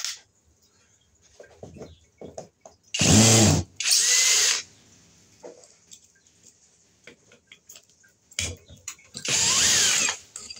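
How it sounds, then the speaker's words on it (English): A power drill unscrews a wall light fixture. It comes as loud, close bursts of whirring, two in a row and later two more, separated by quiet handling clicks. "So let's unscrew this and see what it is."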